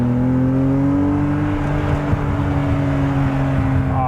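BMW Z3 M car with a freshly fitted exhaust accelerating, a loud steady engine note with strong harmonics that climb gradually in pitch, close by and with no talk over it.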